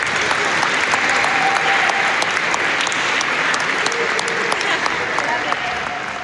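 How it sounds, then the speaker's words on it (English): Dense, loud applause from an audience at an evening speech event in New York, continuous clapping with scattered cheers that eases slightly toward the end. "please give yourselves a round of applause"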